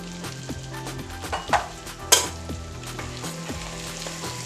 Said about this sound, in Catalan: I ara doncs anem anant remenant fins que els fesols estiguin una miqueta fets